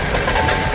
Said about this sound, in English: The train rattles like bones in a jar.